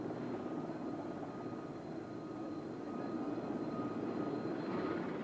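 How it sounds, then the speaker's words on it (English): Military helicopters ferry survivors to aircraft carriers in 1982 news footage, a steady distant rotor and engine drone that holds level throughout with no speech. "Helicopters rushed survivors to the carriers."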